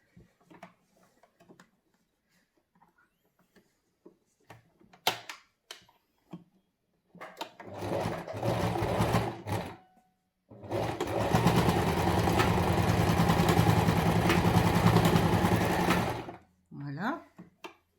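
A sewing machine stitches a fabric face mask in two bursts: a shorter run, then a longer steady whirring stretch, separated by quiet moments with small handling clicks and brief speech nearby.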